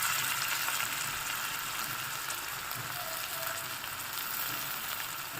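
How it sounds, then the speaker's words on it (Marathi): Washed dal dropped into a hot pan for methi bhaji crackles and sizzles in a steady, close hiss that fades only slightly, with no voices. "ते मिक्स झाल्यानंतर आपण त्यामध्ये टाकणार आहोत डाळ, जी स्वच्छ धुवून घेतलेली आहे."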